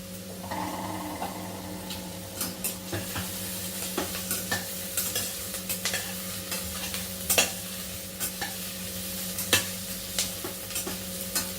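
Chopped onion sautéing in a pan for masala bhat, a low steady sizzle under repeated scraping and clinking strokes of a spoon stirring, close and fairly quiet, with no talk.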